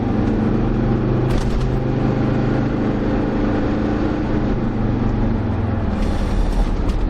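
A Land Rover Discovery 2 engine revving at full power, a loud steady droning roar with a low rumbling hum held throughout, heard from close by with no speech.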